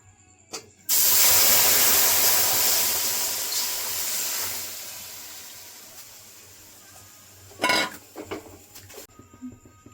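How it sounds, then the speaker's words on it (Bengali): One litre of milk is poured into hot caramel in a pan for a Bengali rice sandesh sweet, setting off a sudden loud, steaming hiss that slowly fades, followed later by a short clatter and clinks of the pan. "1 লিটার দুধ আমি দিয়ে দেবো।"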